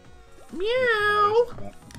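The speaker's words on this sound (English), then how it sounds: "Now my cat is here." A single drawn-out cat meow, close and fairly loud, rises then falls, followed by quiet shuffling sounds.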